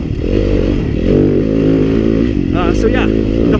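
A Yamaha YZ250FX dirt bike being ridden through the desert, its engine droning loud and steady close by with revs rising and falling, a clattering scrape partway through.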